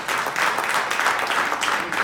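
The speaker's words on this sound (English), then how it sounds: "You can applaud for that." Audience applause at an evening Black History awards ceremony held at a Hard Rock Cafe: dense, steady clapping from a room of people, fairly loud and continuous throughout the short stretch.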